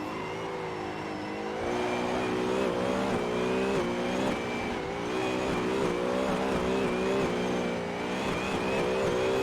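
A drift car in the Assetto Corsa racing game at Ebisu Minami, pulling the e-brake mid-slide: a loud sustained engine drone with wavering revs and a tire-squeal edge runs throughout, with no talking.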